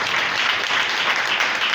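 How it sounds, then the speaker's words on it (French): Audience applause fills a press conference for an album, a steady, dense wash of clapping at close range that holds through the whole stretch without talk. "Est-ce qu'on peut applaudir aussi la sélection?"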